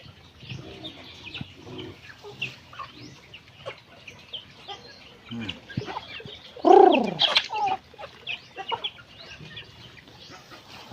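Rhode Island Red chickens clucking and cooing in a farmyard, scattered calls across the span with one louder, closer squawk near the middle, amid light background activity.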